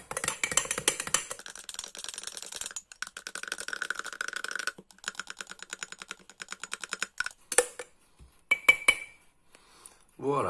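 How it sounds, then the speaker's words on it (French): A spatula scraping around the inside walls of a glass jar while mixing bread foam, a series of rapid clicking, ticking scrapes with clinks against the glass, broken by short pauses, close and fairly quiet. "On gratte les parois du bocal et on continue le mélange."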